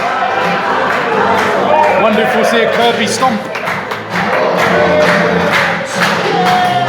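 A dense, steady roar of cheering and clapping fills a wrestling event hall, with a commentator talking loudly over the crowd throughout.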